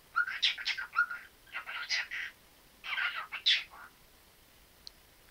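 A pet parrot chirps and chatters in quick bursts of high, bright calls, fairly close and moderately loud, with short pauses between the phrases and a quiet room behind.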